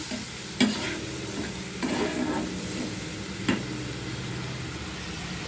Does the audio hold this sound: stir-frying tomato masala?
yes